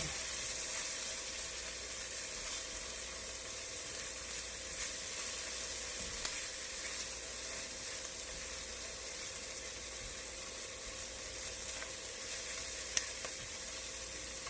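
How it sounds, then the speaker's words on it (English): Garlic sizzling in a pot of ginger sweet potato stew base while stirred, a steady moderate hiss throughout with a couple of faint clicks of the spoon. "we're going to add the garlic. Mix that around."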